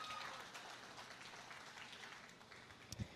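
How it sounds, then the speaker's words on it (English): Spectators at a county 4-H goat show applaud the showmanship class with faint, distant scattered clapping across a large arena, continuing steadily for a few seconds. "let's give this showmanship class a round of applause as well"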